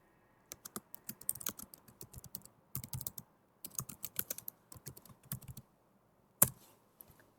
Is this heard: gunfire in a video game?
no